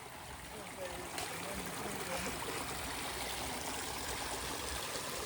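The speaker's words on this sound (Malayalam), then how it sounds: "സൂക്ഷിച്ചിട്ട് കഴിഞ്ഞാൽ ഒരു വെള്ളച്ചാട്ടം സൗണ്ട് കേൾക്കാം" A waterfall of muddy water heard on a trek near Butterfly Beach in South Goa, giving a constant broad rushing wash that grows slightly louder after a moment, with faint murmuring voices beneath it.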